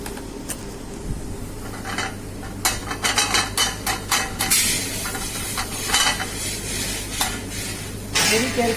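Butter melting in a pan over a low flame, a steady close sizzle broken by clattering knocks and scrapes of a utensil against the pan, with no talk.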